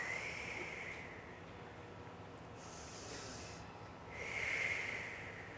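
Two slow, deep breaths during a yoga stretch for the feet and ankles, each a soft hissing rush of air in and out with a quiet pause between, close and unaccompanied by speech.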